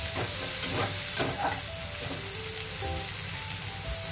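Onions salted for a dry paneer masala fry in a pan with a steady broadband sizzle, while a utensil scrapes and stirs them in several soft, uneven strokes close by, with no voices.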